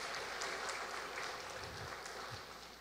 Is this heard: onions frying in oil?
no